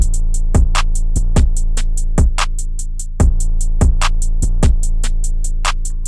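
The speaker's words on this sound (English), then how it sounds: "If we turn off the melody, the 808 would sound like this." Deep 808 bass hits booming under a steady crisp hi-hat pattern, with no melody on top, loud and punchy.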